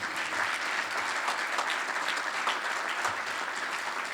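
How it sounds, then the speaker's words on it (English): Steady applause from an audience at a press conference on lakeshore redevelopment, with dense continuous clapping held at an even level throughout and no voices above it. "keep clapping for Kevin Warren"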